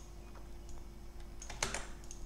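Quick keystrokes on an English-layout computer keyboard while a password is entered, a light scattered tapping that clusters into a short close burst, fairly quiet over a steady low hum.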